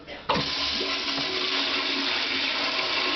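A strong-flushing beige motel toilet at the Geary Motel starts abruptly after a moment of quiet, then roars into a loud, continuous rush of water that fills the rest of the clip.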